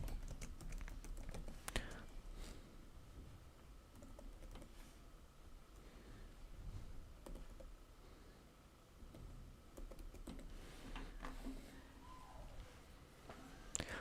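Computer keyboard typing runs in quiet, irregular bursts of soft key clicks throughout, faint and close, with a low room hum and no talk.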